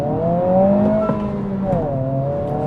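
A 2026 Honda Civic Si accelerates hard through the gears from inside the cabin, its engine note climbing steadily with rising harmonics and dipping briefly at each shift, steady and fairly loud throughout.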